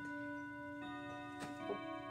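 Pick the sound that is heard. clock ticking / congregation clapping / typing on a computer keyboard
clock ticking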